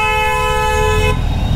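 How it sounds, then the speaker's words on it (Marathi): A truck-style air horn fitted on a vehicle on a road trip from Solapur to Kolhapur blasts one loud, sustained honk that cuts off abruptly, leaving road and engine rumble. "ट्रकचा हॉर्न बसवलाय की काय"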